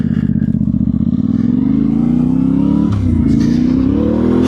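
A Yamaha Tenere 700 motorcycle ridden off-road in Scotland holds a loud, close engine note that climbs steadily as it accelerates, dips with a brief gear change near the end, then keeps pulling hard, with no voices.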